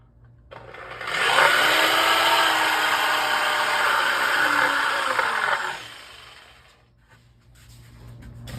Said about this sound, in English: Take a jigsaw and cut it out.